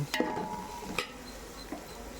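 Ginger garlic paste sizzles in a pan for a prawn biryani while a spoon stirs it, two or three quick scraping knocks over a faint, steady frying hiss.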